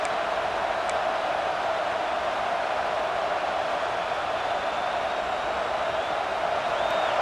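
Steady roar of a stadium crowd in EA Sports College Football 26, building noise as the home fans urge the defense on during a red zone stand; a dense, continuous wash with no breaks.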